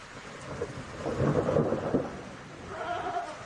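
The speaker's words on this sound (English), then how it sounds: "just listening to the rain" Rain and thunder as a radio drama sound effect: steady rainfall with a low rumble of thunder swelling through the middle, then a faint tonal sound near the end, no voices.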